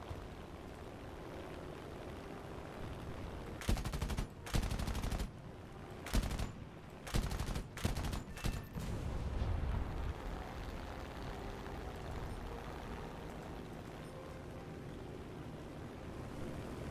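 Artillery fire in War Thunder: a cluster of sharp, loud blasts in quick succession midway through, set against a steady low rumble of battle with no talking.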